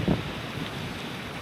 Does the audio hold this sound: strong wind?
yes